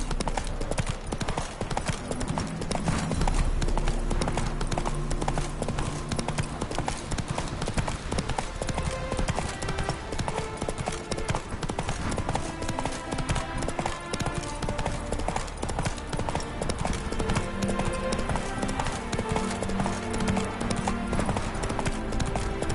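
The horse Roach from the game The Witcher 3 trots on with steady rhythmic hoof clip-clops, close and continuous, over game music with a faint voice now and then.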